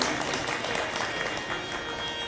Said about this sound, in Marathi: जर आपण टाळ्यांच्या गजरामध्ये आपण त्यांचं स्वागत करू